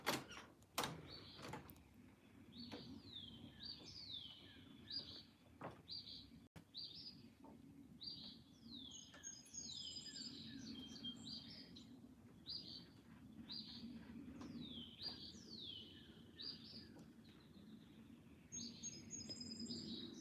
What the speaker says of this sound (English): See if you can hear the birds out here.